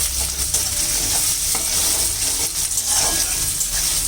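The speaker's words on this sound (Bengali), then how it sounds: "পেঁয়াজগুলি আমি পাপড়িগুলি ছুটিয়ে নিয়েছি, এরকমভাবে কষিয়ে নেবো।" Onions with separated layers and crushed garlic sauté in a pan for dried loitta fish curry, giving a steady, loud sizzle with intermittent stirring scrapes and no talk.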